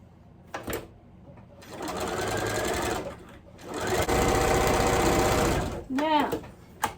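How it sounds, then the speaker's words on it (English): A sewing machine stitching a strip onto a scrappy quilt, two steady whirring runs separated by a short pause, close and clear, with a voice speaking briefly between them. "I'm sewing this strip to this side."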